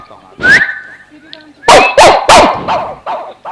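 A man imitates a dog barking, giving a series of loud, sharp vocal barks and yips at close range, several in quick succession after a brief whine-like call.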